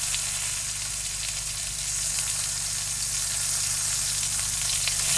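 Loud, continuous sizzling of a pot roast cooking in hot fat in an oven, a steady crackling hiss over a low appliance hum.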